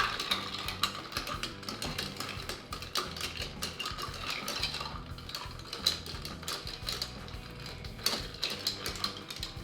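A sake cocktail being stirred at length with ice to chill it, producing rapid, continuous rattling and clinking at close range, steady and busy with no talk.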